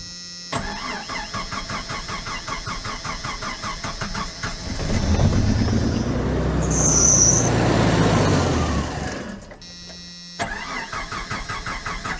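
A 1990 Jeep Comanche engine cranks and catches, revving and running loudly for several seconds before stalling out, with a quieter steady idle-like hum before and after.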